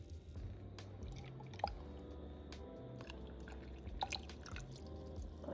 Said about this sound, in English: Also gonna add some water, rinse the pan, pour that in.